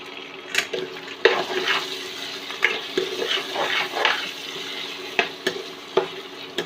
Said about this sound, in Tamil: நான் தக்காளி கொஞ்சம் அதிகமாக சேர்க்குறேன்